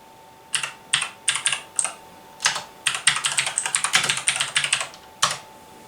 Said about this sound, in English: listen to the sound of the click typing sound of this here keyboard